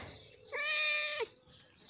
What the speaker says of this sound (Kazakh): Мысығым келді